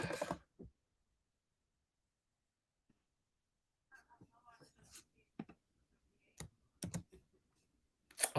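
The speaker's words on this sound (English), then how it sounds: "I'm typing and it's shaking the whole setup." Someone types on a computer keyboard hard enough to shake the setup, producing sparse, irregular key clicks and a few sharper knocks close by, with long quiet gaps between bursts.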